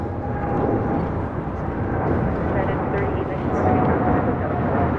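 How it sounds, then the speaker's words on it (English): United Boeing 787-9 Dreamliner taking off from LAX, a loud continuous jet engine roar that stays steady and dense throughout. "3894 taking off to San Francisco on a 787-9 Dreamliner"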